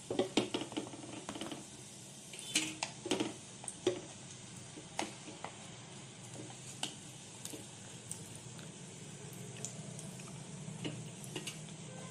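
Fish roe fritters frying in oil in a home kitchen, a soft steady sizzle broken by sharp clicks and clatters of utensils against the pan, close and fairly quiet, with no talking.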